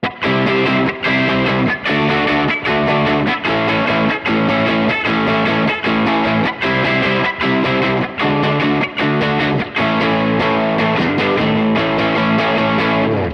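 Crunchy, mildly overdriven electric guitar through an AC30-style amp tone, playing rhythmic chords with a steady strummed pulse, loud and alone with no voices.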